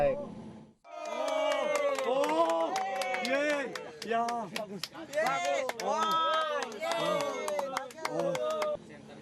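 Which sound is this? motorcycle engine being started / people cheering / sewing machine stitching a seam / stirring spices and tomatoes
people cheering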